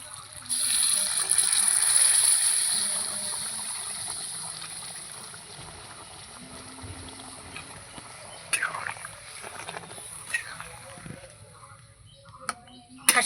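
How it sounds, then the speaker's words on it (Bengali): Hot water pours into a pot of mutton curry with a loud, rushing hiss that fades after a few seconds. Quieter kitchen clatter and faint voices follow. "এই যে এখানে আমি গরম জল করে নিয়েছি ঘরের থেকে এটা ঢেলে দেবো"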